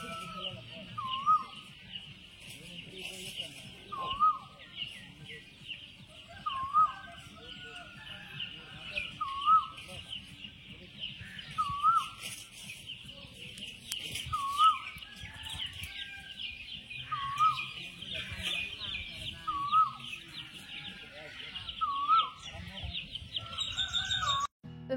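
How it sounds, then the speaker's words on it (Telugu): An Asian koel singing among tree branches in a village during the spring Ugadi festival, with other birds chirping: a clear two-note call repeats every few seconds over a steady insect-like hiss and background rustle. "మరి కొమ్మల్లో ఉన్న కోయిలమ్మ రాగాన్ని కూడా వినేయండి"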